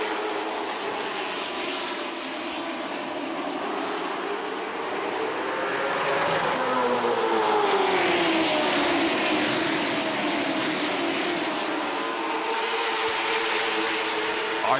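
CARS Tour race cars roar past at Ace Speedway, a loud engine drone that rises and sweeps in pitch as the pack passes, with no talking.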